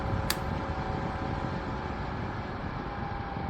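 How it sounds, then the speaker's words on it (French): A quiet battery-powered CATGIFF table fan blows air with a steady, soft whoosh that holds even and close throughout, with a brief click near the start. "ce qu'on entend, c'est juste le bruit des pales sur l'air"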